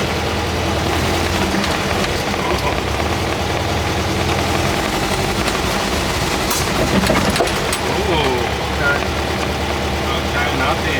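An engine idles after its air-fuel mixture was richened slightly and the idle speed lowered, a steady low running drone heard under someone talking.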